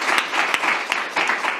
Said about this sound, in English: I just want to give her a round of applause for that.